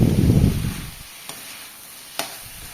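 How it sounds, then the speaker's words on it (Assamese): Duck meat and onion leaves fry in a pan, a dense sizzle at the start that fades quickly into a quiet hiss, broken by two sharp clicks of the stirring utensil against the pan. "পুনৰ এইখিনি মই লৰাই লৰাই ভাজি থাকিম"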